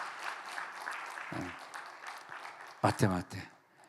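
Scattered clapping from a small church congregation at a Friday prayer meeting rolls through the room, with a few voices speaking over it near the end.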